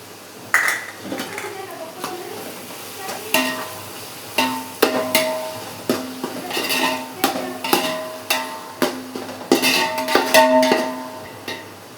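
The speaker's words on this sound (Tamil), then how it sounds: "ஸோ இஞ்சி பூண்டு பேஸ்ட் போட்டு வதக்கி அதோட ஸ்மெல்லாம் நல்லா பிடிச்சி" Tomatoes and ginger garlic paste stirred and sautéed in a pan, with a spoon clanking and scraping against the metal in repeated, fairly regular strokes over a faint sizzle, while a person talks.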